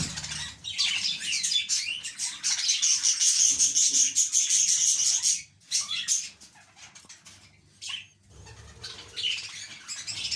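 Budgies in a breeding colony fill the air with dense, loud chattering chirps and squawks that thin out partway through, then return as sparser, scattered calls.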